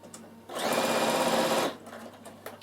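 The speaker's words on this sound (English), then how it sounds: "I'm just going to sew it" A sewing machine stitching fabric runs in one steady, close burst of just over a second, whirring loudly before stopping, with quiet room sound before and after.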